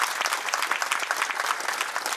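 Dense, steady applause from an audience at a devotional spiritual discourse, many hands clapping continuously and loudly throughout with no talk over it.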